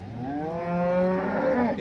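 A single long, low cow moo rises and swells, close by, at the Modnimb livestock market, lasting under two seconds.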